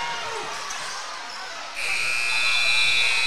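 End-of-quarter buzzer at a high school boys basketball district championship game, Cotter vs Eureka Springs, cutting in partway through as a loud sustained electronic tone over steady gym crowd noise.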